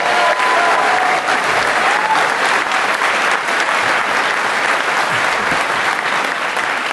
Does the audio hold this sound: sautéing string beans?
no